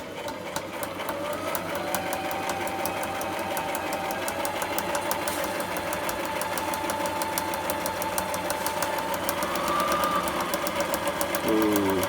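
A sewing machine double-stitching a homemade gear bag, its needle hammering in a fast, even rhythm close by, running steadily for the whole stretch.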